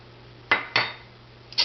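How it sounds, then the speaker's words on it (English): A spoon scrapes and knocks against a bowl while stirring homemade bread dough mixed with olive oil, giving three sharp clinks with short scraping tails in a quiet kitchen. "And just give it another stir."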